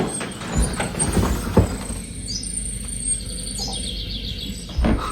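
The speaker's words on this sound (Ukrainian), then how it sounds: "Боже, як пташки співають." Faint, high birdsong chirps and trills come from a distance, heard inside a Scottish castle over indoor room noise with a few soft knocks and footsteps.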